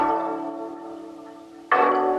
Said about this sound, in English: like some watery texture steel drum